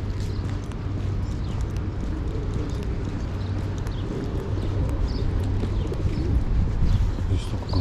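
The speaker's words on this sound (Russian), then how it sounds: "Здесь столько голубей." Pigeons in a city park in Krasnodar, with soft cooing and wing flutters mixed into a steady bed of outdoor ambience and distant crowd noise, with occasional faint voices.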